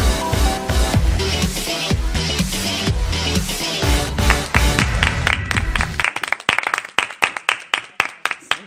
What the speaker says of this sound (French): Je sais pas comment est-ce que t'applaudis, mais ça fait une résonance vraiment